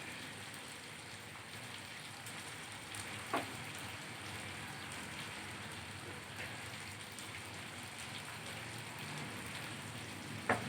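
Green chilies added to chicken malai karahi fry in the pan with a soft, steady, rain-like sizzle, faint and even throughout, broken by a couple of small sharp pops.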